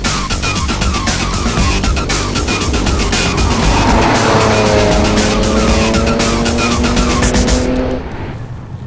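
An Audi S5 Sportback 3.0 V6 quattro works hard around the Kyalami Grand Prix circuit: a loud, close engine climbs in pitch through the gears with a tyre edge, then drops away near the end.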